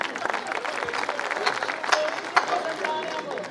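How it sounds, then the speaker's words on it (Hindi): A crowd at an evening poetry recitation gathering claps in a thick, continuous wave of applause, with a voice partly audible beneath it. "एक बार तालियां वालियां बजा दीजिए"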